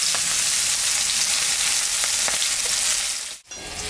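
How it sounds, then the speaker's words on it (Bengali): Onion fries in mustard oil alongside green chillies, a strong continuous sizzle with faint stirring clicks and a brief drop near the end. "পেঁয়াজটা দিয়ে দিলাম।"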